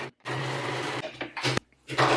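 A sewing machine runs a seam at a 5/8 inch allowance in a few loud, steady bursts separated by brief pauses, with short clicks in between and no talking.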